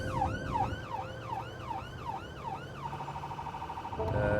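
Emergency ambulance siren wailing in rising and falling sweeps close by, loud and continuous over steady road rumble before shifting to a different tone near the end.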